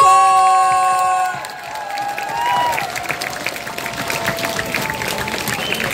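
A concert crowd applauds and cheers as the band's final held notes fade, dense clapping and whoops swelling into a loud, sustained ovation.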